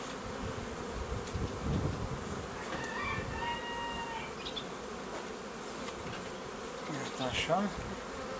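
Honey bees swarm and buzz around a prepared hive while a colony is moved from one hive into another, a steady mid-distance drone with brief louder passes close by and faint background noise.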